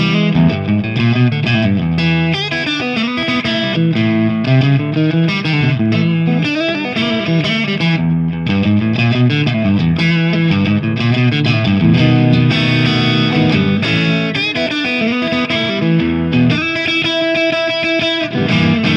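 Electric guitar plays through the gain channel of a MESA/Boogie Triple Crown TC-50 amplifier, with loud, continuous distorted chords and riffs alone for the whole stretch.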